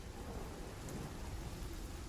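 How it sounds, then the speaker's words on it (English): Rain falls steadily in the Spellforce 3 game world, a faint, dense hiss of downpour with a low rumbling undertone, continuous and without voices. "There's something about the rain that looks magnificent."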